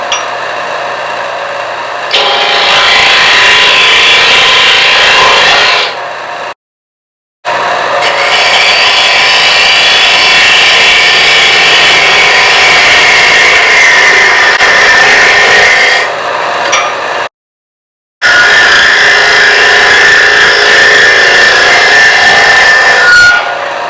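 Wood being cut by a lathe tool at high speed while hollowing a vessel, a loud continuous rasping scrape in three long passes separated by two brief silent pauses, no talking.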